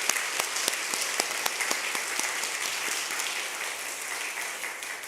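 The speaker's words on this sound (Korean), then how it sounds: "한번 일어나시면 환영의 박수 드리겠습니다." A church congregation at a Korean Sunday worship service claps in welcome for new members, a sustained wash of hand claps with sharp individual claps standing out, steady and fairly loud, gently fading toward the end.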